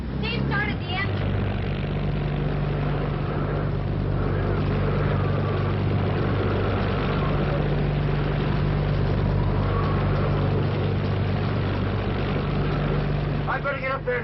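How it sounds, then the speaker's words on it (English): An engine runs steadily with a continuous low rumble that holds for the whole stretch, while wind or rain hiss over it and voices murmur faintly in the background. "started the engine"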